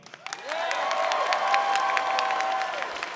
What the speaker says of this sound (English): Only applaud for who you think is it.